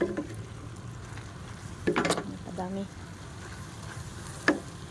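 Pancit canton noodles sizzle and fry in a pan over an open flame, making a steady low crackle with a few sharper stirring clatters. A brief spoken word is heard partway through.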